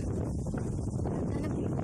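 Strong wind buffets the microphone on the summit of Mount Tagapo in a steady, low, rumbling roar that fills the short clip without letting up.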